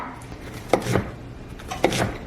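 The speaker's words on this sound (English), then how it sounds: "I want to cut everything up very small" A knife chops vegetables into small pieces on a cutting board for a breakfast veggie egg casserole, giving two pairs of crisp, close thuds with brief pauses between them.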